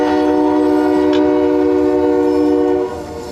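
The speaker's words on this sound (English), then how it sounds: "a train, as we like to hear those a lot in Fairmont." A passing train sounding its horn in Fairmont, Minnesota: a loud, sustained, close horn blast that cuts off near the end, leaving quieter rail rumble.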